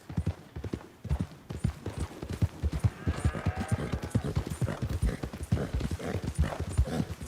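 Horse hooves clip-clopping steadily in Red Dead Redemption 2, a brisk close rhythm of hoofbeats running throughout, with a brief neigh-like tone partway and occasional faint talk.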